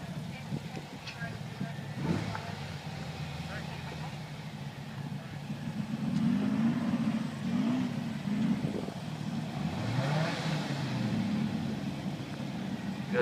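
VW drag racing cars accelerate down the strip at Warwick, a rising engine roar heard at a distance beneath steady crowd and background chatter.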